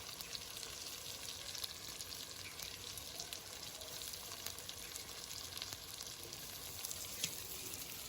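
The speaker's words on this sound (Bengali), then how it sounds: "একসঙ্গে আলু আর পেঁয়াজটা ভাজা হয়ে যাবে।" Potatoes and onions fry together in oil with a faint, steady sizzle and a few light crackles, quiet and continuous, with no voices.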